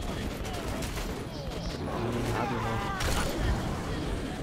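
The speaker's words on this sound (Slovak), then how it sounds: "Ešte po mne strieľajú" Bursts of gunfire in Metro 2033 Redux crackle through a busy mix of other game sounds, steady and fairly loud throughout.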